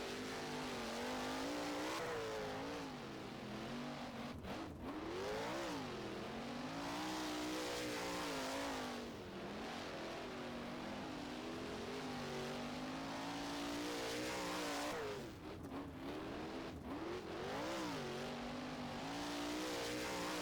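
Wingless sprint car engines roar continuously on the Gas City track in the rFactor racing game, a dense, steady pack of revving motors with rising and falling pitch as the cars power around the oval.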